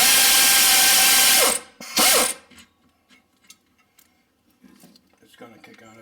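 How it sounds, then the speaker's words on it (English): Ratchet turning on rear brake hardware of a 2016 Subaru Crosstrek during a pad and rotor job, a loud burst of rapid clicking for about two seconds, then quieter scattered tool clinks and handling noises. "Ratchet again."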